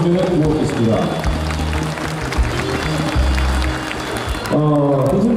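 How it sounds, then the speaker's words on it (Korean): Audience applause at a welcome address during the 2017 Wando International Seaweed Expo, a continuous wash of clapping heard under a host's amplified speaking voice. "여러분 다시 한번 크게 격려의 박수를 보내주시면 고맙겠습니다"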